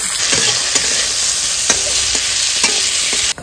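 Potatoes frying with turmeric and salt give a loud, dense close-up sizzle with a few scraping stir strokes, cutting off abruptly at the end.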